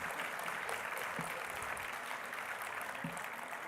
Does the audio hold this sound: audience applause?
yes